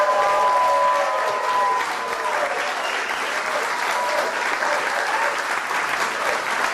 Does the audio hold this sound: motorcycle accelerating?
no